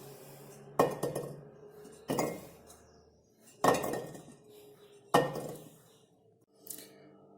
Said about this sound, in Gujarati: બધા જ આમળાને આપણે બરણીની અંદર ભરી લીધા છે।